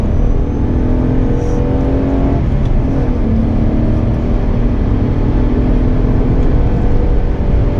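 Car engine droning steadily on the race circuit at Bedford Aerodrome, loud and continuous with a subtle pitch shift as power comes off for braking, heard from inside the car throughout.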